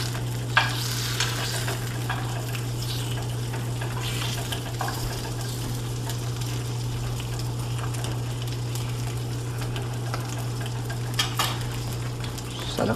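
Leftover salami fries in a pan over a hot burner with a continuous sizzle, steady hum beneath, and occasional utensil clicks and scrapes.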